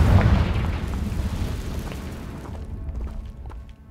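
A Confringo spell explosion in Hogwarts Legacy lets out a rumbling, fiery boom that starts loud and slowly fades over a few seconds with a crackling tail.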